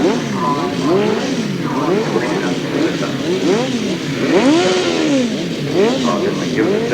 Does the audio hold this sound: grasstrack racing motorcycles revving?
yes